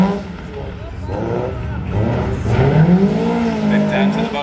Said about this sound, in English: You know, those cars sound so angry.